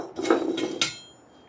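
A metal rod's head being cut off on a bandsaw fitted with a cast iron table in a home workshop, heard as a short run of sharp metallic clanks and scraping bursts that end in one last bright hit and then fade.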